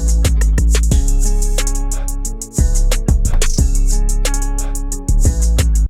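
A hi-hat pattern processed with an Effectrix chorus effect plays within a drum loop over deep bass. The rapid, bright ticking hits repeat in a steady rhythm with a doubled, layered sheen.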